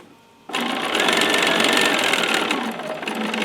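A sewing machine stitching around the edge of a fabric needle book starts up after a brief quiet moment, then runs in a loud, close, steady rapid whir for the rest of the time with no speech.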